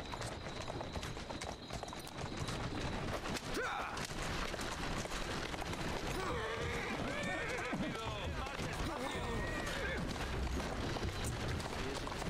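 Horse neighing and whinnying in the Assassin's Creed Syndicate video game, with hooves clip-clopping steadily throughout a busy, continuous game soundscape and voices talking over it.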